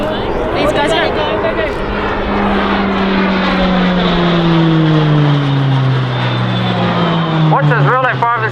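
RAAF Roulettes aerobatic display aircraft drone past overhead, a loud propeller-engine hum sliding down in pitch as they pass, with a commentator talking throughout.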